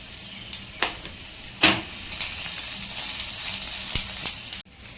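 Onion, dried red chili and mustard seeds frying in hot oil for a coconut and amaranth greens stir-fry, a steady close sizzle with occasional sharper pops and a brief stir near the end.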